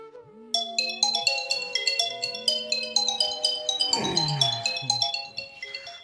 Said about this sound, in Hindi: अरे यार, इतनी रात को कॉल कौन कर रहा है?